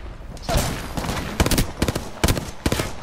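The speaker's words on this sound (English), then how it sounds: "Opening fire on the enemy." Rapid bursts of automatic weapon fire in the video game Apex Legends, several loud clattering volleys close by with brief gaps between them, layered over dense game ambience.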